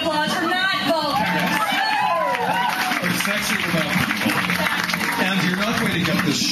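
Audience applause at a live fashion talk, clapping mixed with crowd chatter and voices, a busy, fairly loud hubbub where people talk over the clapping.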